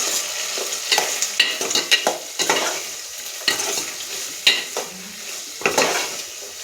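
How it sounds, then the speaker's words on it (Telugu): Onions frying with salt are stirred in a pan, a soft steady sizzle under irregular scraping strokes of a spoon against the metal, close and moderately loud. "ఇప్పుడు ఇందులో కొంచెం ఉప్పు వేస్తున్నాను. ఇదంతా ఒకసారి బాగా కలుపుకుందాం."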